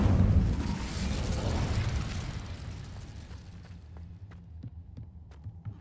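An Incendio fire spell is cast in the Hogwarts Legacy video game, a deep whooshing burst that swells at the start and fades into a low rumble with faint crackles.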